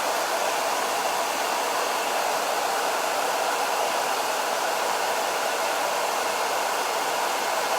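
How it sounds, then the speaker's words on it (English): A hair dryer runs continuously at close range to dry transfer ink on a shirt, a loud steady whooshing hiss with no variation and no talk. "the hair dryer is going to take a little bit."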